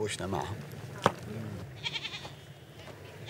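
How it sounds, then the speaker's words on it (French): Goats bleat in the desert herd of Bedouin herders, a few short nasal cries near the start amid a person talking, with a sharp knock and faint background activity. "Jabir a toujours élevé des chèvres."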